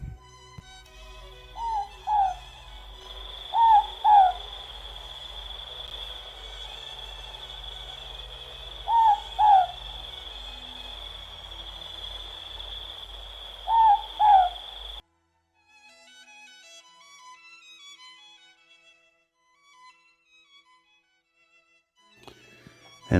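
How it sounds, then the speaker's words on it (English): New Zealand ruru (morepork) owl calling at night in a backyard garden: repeated two-note hoots in pairs spaced several seconds apart, moderately near, over a constant high insect drone that cuts out partway, leaving faint distant chirps. "This is an interesting one, the ruru, or the moorpork."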